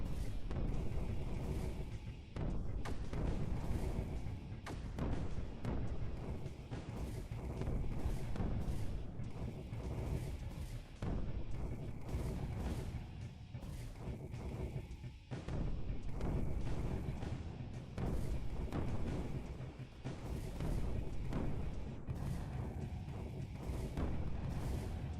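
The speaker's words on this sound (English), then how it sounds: "I just saw a bunch of explosions happen inexplicitly." Explosions in a strategy video game's battle make a dense, continuous rumble packed with repeated booming blasts and thuds that go on for the whole stretch, with no talking.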